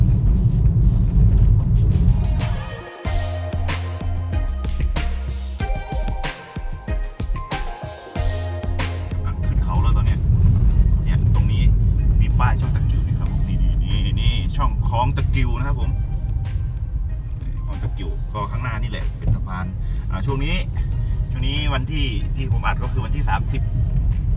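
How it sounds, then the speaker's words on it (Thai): A car grinds in low gear up the steep Chong Takiu mountain pass on Highway 3446, Sa Kaeo province; a loud, steady low engine drone and road rumble fill the whole stretch, with voices talking over it. "ใช้เกียร์ต่ำขึ้นนะครับ เพราะมันชันหน่อย"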